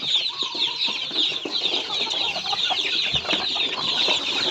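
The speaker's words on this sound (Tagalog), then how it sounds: "yan yung ating mga alagang sisiyo" Pet chicks and hens cluck and peep continuously in a farmyard, with a chorus of high chirps over scattered lower clucks at moderate distance and no talking.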